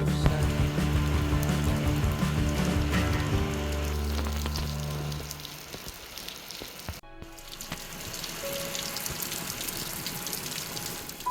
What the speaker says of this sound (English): this turns out to be quite a lot of rain